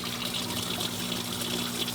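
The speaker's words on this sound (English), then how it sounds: "you hear the pump is actually sucking air" A fountain pump in its reservoir basin sucks air, producing a steady gurgling, trickling water wash with a low hum underneath, close and continuous.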